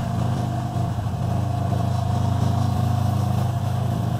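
A motorcycle engine idles and runs at low RPM before dawn, its steady mid-pitched throb close and even, with slight swells in revs and no voices.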